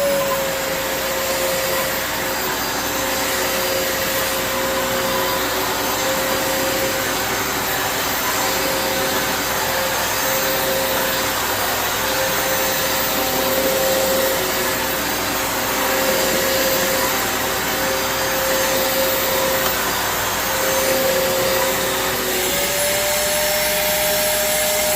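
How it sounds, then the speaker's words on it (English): A vintage Fantom vacuum cleaner runs steadily, a loud, close, continuous motor whine with a high, airy rush of suction that holds even throughout, and its pitch rises slightly near the end. "You can't run a vacuum cleaner on 12 amps, John"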